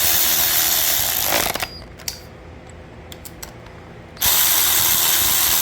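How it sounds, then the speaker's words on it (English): A hand ratchet clicking rapidly and loudly while tightening cylinder head bolts on a 6.0 Vortec engine. Two bursts of quick clicks are separated by a quieter pause with a few isolated clicks. "This ratchet only does about 30 foot-pounds"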